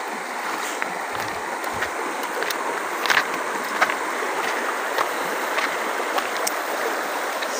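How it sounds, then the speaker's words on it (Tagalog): The Uway river flows with a steady, broad rush of running water, a continuous close wash with scattered splashes and no voices. "So this is the river of Uway River"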